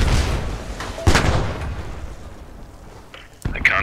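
A tank gun in Post Scriptum fires at a German Panther tank: two heavy, booming cannon shots a couple of seconds apart, each followed by a rumbling decay, with muffled background noise between.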